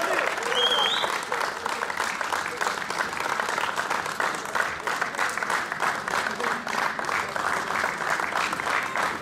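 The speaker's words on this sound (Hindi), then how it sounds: "बहुत तालियां।" Audience applause for the man of the match at a cricket tournament final's award ceremony: dense, steady clapping from a sizeable crowd, loud and continuous across the whole stretch with no break.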